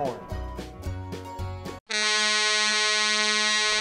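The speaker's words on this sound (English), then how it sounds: "Air horn." An air horn on a wheelchair-mounted toy fire engine blares a long, steady, buzzy electronic tone up close, preceded by a brief jumble of tones and cutting off abruptly at the end.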